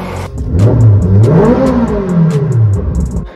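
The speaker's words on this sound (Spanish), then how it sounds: "lo vamos a acelerar para que escuchen este motor que es espectacular" Ferrari 458 Speciale engine revved while stationary, a loud, close roar that climbs in pitch, falls back and climbs again across a couple of blips, with no talk.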